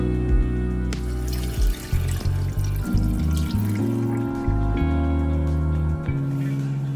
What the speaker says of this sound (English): We will pour this water out.